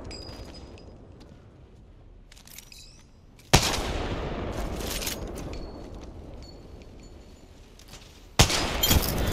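Weapon fire in Apex Legends: a sharp, loud gunshot crack stands out, followed by a sustained rumbling tail, then a second sharp shot near the end, with faint game ambience between.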